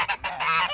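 Roman geese on a farm honk loudly and close by, with a string of harsh, overlapping calls running through most of the short burst and no talk over them.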